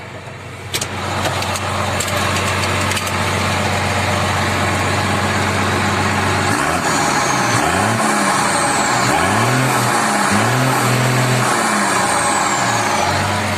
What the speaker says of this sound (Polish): Dźwięk piękny jest tego silnika.